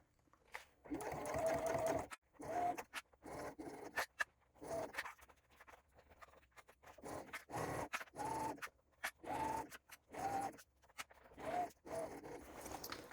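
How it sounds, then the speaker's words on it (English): A sewing machine bastes backpack fabric along a bottom edge at an eighth-inch seam, whirring in repeated short bursts separated by brief pauses as the material is fed through. "I'm just basting all the way around the bottom at 1/8 of an inch."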